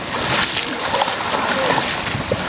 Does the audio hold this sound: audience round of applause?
no